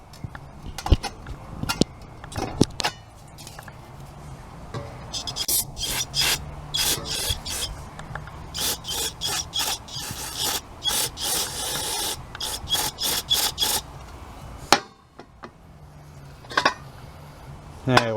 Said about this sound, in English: I wipe that down with my rag here